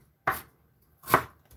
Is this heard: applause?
no